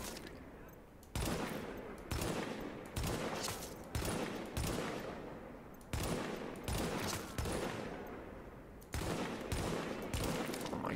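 Repeated bursts of rapid automatic gunfire in the shooter game The Division, several volleys in quick succession with brief gaps between, loud and close throughout.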